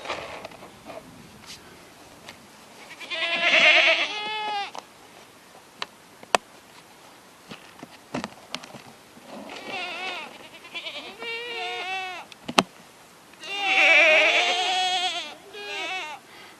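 Goats bleat loudly in separate bursts, a couple of long wavering cries close by, with sharp clicks and brief talk in between.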